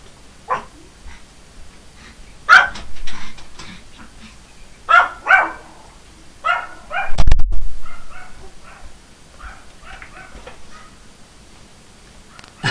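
A small pet dog barks in short bursts, a couple of sharper yips standing out, with scattered softer yelps and whimpers between them and a low thump partway through; no one speaks.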